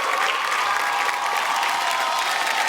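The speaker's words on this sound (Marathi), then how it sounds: "एकदा जोरदार टाळ्या होऊन जाऊ दे." Studio audience applause fills the whole stretch, a dense, steady wash of clapping hands at even loudness without a break.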